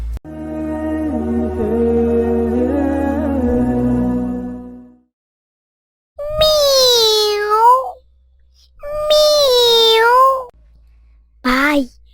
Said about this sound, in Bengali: মনে হচ্ছে কোনো বিড়াল মিউ মিউ করছে